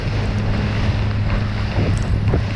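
A fishing boat runs fast across open water during a predator fishing tournament, its engine a steady low drone under constant loud wind buffeting the microphone, with no voices.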